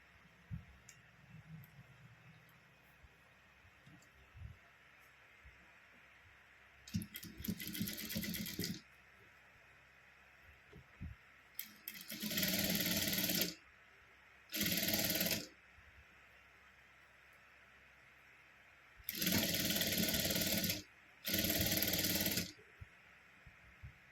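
A sewing machine stitches a folded fabric border for a blouse latkan in several separate bursts of steady whirring, each lasting a second or two, with quiet pauses between them and no talking.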